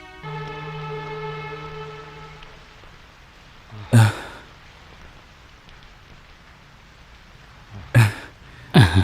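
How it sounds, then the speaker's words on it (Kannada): Heavy rain pours down as a steady broadband wash. A low humming tone fades out in the first couple of seconds, and louder thumps and splashes break through near the middle and end. "ಜೋರಾಗಿ ಬರ್ತಿದೆ ಮಳೆ"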